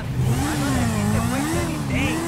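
A car engine revving and accelerating in Grand Theft Auto V, a steady rising-and-falling mid-pitched drone that holds loud and close the whole time, with game noise around it.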